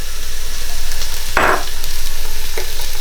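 Onions for a south Indian beef curry sizzle steadily in a hot pan, a constant frying hiss broken by a couple of scraping stirs of the spoon, close and loud.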